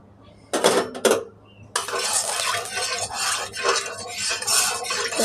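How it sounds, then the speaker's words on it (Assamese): Oil goes into a hot kitchen wok before fish is fried: a couple of metallic clanks of utensils against the pan, then a sustained, close, hissing sizzle with uneven surges. "এতিয়া মই তেল ঢালি দিছোঁ কেৰাহীত।"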